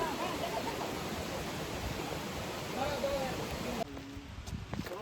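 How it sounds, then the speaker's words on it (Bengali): Bamni Falls in Purulia's Ayodhya hills gives off a continuous rushing roar of falling water, steady and fairly loud, before it abruptly drops to a quieter level near the end. "ঝর্ণার আওয়াজ পাওয়া যাচ্ছে।"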